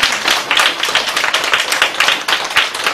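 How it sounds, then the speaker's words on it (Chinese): A small audience at a Buddhist teaching session claps warmly, a few seconds of fairly close, uneven hand clapping with no talk over it. "我们还是给他热烈的掌声鼓励一下。"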